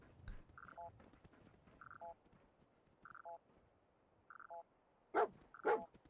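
Dogmeat, the dog in the video game Fallout 4, gives a couple of loud sharp barks near the end, after a run of faint repeated electronic beeps over quiet background.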